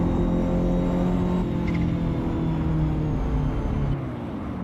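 Ferrari engine droning steadily in the Assetto Corsa racing game, a close continuous rumble holding near one pitch with a slight drop toward the end, no talk over it.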